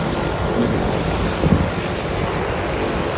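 A seaplane taxis on the water before takeoff, its engine a steady, loud droning roar mixed with wind and water rush, continuous throughout with one brief bump in the middle.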